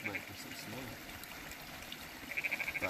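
A frog croaks in short repeated bursts in the background beside trickling water in the Arizona outdoors, faint and intermittent under a person talking.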